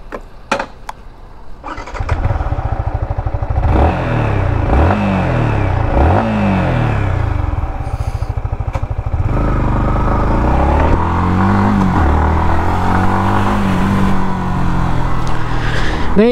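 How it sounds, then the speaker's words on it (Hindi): A 2022 Yamaha MT-15 V2.0 motorcycle starts after a few clicks, then settles into a loud, close engine note that revs up and down repeatedly as it rides away. "तुरंत बैठेंगे बाइक पे और इसको चलाएंगे।"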